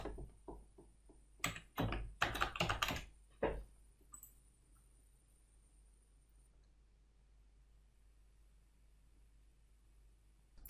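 Keys clatter on a computer keyboard as a password is typed in a short burst of quick clicks near the start, followed by a long near-silent stretch of faint room hum.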